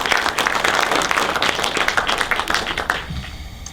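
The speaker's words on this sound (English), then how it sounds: "Rod, a big round of applause for Jason because he works tirelessly for me" Applause from a lighting workshop audience at Pinewood Studios for crew member Jason: a dense, loud wash of clapping that fills the room and tapers off near the end.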